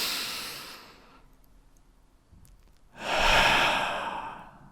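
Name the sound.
deep breath in and let out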